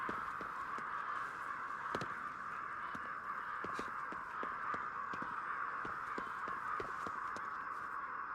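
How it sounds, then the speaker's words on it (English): Crows caw repeatedly in an open outdoor scene of the video game Ghostwire: Tokyo, sharp calls recurring at irregular intervals over a steady, bright ambient wash. "I'm hearing crows, but I'm not seeing them."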